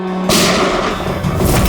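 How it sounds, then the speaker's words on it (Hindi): A sudden loud gunshot cracks out, followed by a dense, echoing rumble of further shots. "ये क्या गोली चलने की आवाज है?"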